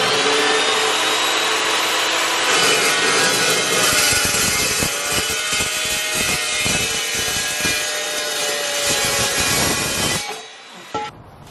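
Power-saw cutting of frame pieces for an offroad teardrop camper build, a loud, sustained whining cut with gritty pulsing bursts that runs for about ten seconds and then stops abruptly.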